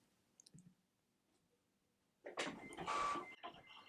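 A Cricut cutting machine working a vinyl design for an embroidery and rhinestone shirt: faint clicks first, then a closer burst of motorized whirring and carriage movement near the end.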